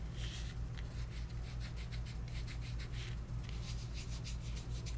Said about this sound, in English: I just rub it in to where that adhesive has been exposed.